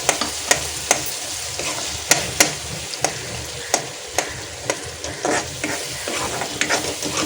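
Masala roasting with softened tomatoes in a pan for gathiya bhaji, a constant loud sizzle broken by regular clinks and scrapes of a spoon stirring against the metal pan, without any speech.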